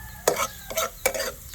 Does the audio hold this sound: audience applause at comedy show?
no